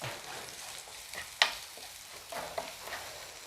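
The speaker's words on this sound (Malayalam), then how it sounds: "ബാക്കി ആ എണ്ണയിലോട്ട് തന്നെ നമ്മൾ നമ്മുടെ ഇതാ ഒരു കുടം വെളുത്തുള്ളി ഉണ്ടല്ലോ ചതച്ചതാണ് അതങ്ങോട്ട് ഇട്ട് കൊടുത്തു" Crushed garlic dropped into leftover chicken oil, a soft steady sizzle with a sharp splatter pop early on and a few smaller crackles, quiet and close with stirring.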